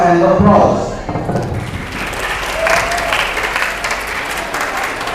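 An audience at a school English speech competition in Medan breaks into sustained applause, loud and close, opening with a sharp thump and staying a dense clatter of clapping to the end.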